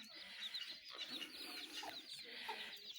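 Several chickens cluck softly at a distance on a rooftop, their calls overlapping in a steady, busy chatter with occasional higher squawks.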